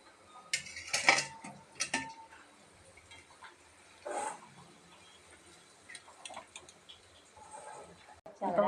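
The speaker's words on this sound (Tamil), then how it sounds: "இப்போ நம்ம எண்ணெயிலேருந்து எடுத்துடலாம்." Fried green field-bean masala vadas lifted out of hot oil, scattered metallic clinks and scrapes of a slotted spoon against the pan, close and intermittent with quiet gaps between.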